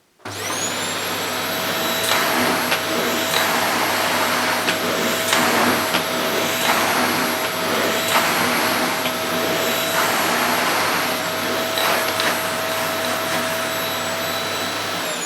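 A Dyson DC28c multi-floor cylinder vacuum cleaner runs steadily on carpet with a loud, continuous whine and airy roar, plus a high pitched tone held throughout and faint rustling bumps as the head moves.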